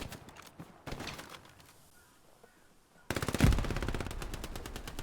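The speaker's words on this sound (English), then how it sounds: "That is what Fortress is trying to do with his MG." Machine gun fire in the World War II shooter Hell Let Loose, with scattered distant shots early on, then a loud, rapid sustained burst of automatic fire in the closing seconds.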